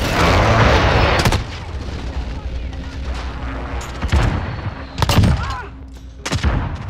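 Loud bursts of submachine gun fire crack through a busy, noisy Call of Duty Warzone scene, several separate shots spaced across the clip with a rumbling background.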